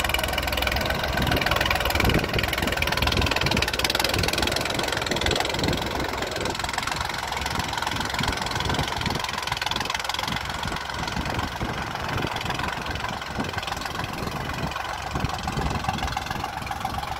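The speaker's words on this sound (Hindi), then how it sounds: "आवाज़ चेक कर लो ट्रैक्टर की" A New Holland 3630 tractor's diesel engine chugs steadily nearby while working with a dozer blade, a loud continuous knocking rumble with no voices, holding the same pace throughout.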